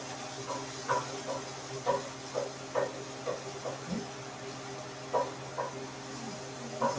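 Tofu and vegetables frying in oil in a pan give a faint, steady sizzle, broken by soft, regular scraping taps of stirring.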